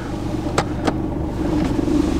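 A Mercedes C-Class 220d diesel engine idles with a low, steady rumble, a couple of short clicks near the start, and the hum rising slightly toward the end.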